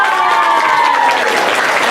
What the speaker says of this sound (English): Give Seamus a round of applause.